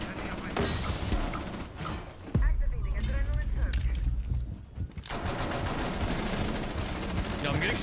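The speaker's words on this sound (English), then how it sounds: "Yo, I'm getting shot at by the entire team." Gunfire erupts in a Rainbow Six Siege match: rapid automatic bursts and single shots, close and loud, with mechanical clatter and a sharp impact in between.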